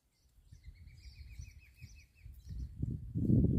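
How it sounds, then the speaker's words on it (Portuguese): Faint bird chirps trill in a steady pattern at a distance, while low rumbling handling noise grows louder near the end. "Tá cheio de pássaro aqui, ó."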